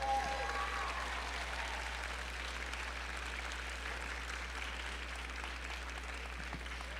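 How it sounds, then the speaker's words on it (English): Faint, distant applause from an audience at a university white coat ceremony, honoring student society members standing up; a soft, steady patter of clapping over a low electrical hum. "Can we give these guys a round of applause?"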